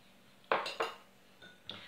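A teaspoon clinks against a bowl while water is spooned in during fondant preparation: two sharp close taps in quick succession, then two fainter clinks after a pause.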